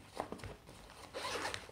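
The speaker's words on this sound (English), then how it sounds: "It's got a zipper pouch right here." Zipper on the pouch of a hanging toiletries bag, a few short close zipping pulls in quick succession, quiet, with no voices.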